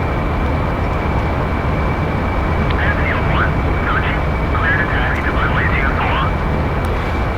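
F-14B Tomcat fighter jet engine in flight in a video game: a loud, steady roar holds throughout with no breaks, and faint chirping sounds drift over it.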